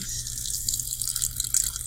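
Leftover herbal liquid being poured for a compress gives a steady hissing, splashing stream with small irregular spatters, close and fairly loud with no talking.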